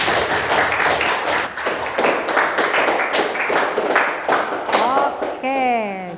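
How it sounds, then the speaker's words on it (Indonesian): Students in a biology classroom applaud after a group discussion with loud, close clapping that has some distinct claps, and a voice is heard speaking near the end. "Kasih tepuk tangan."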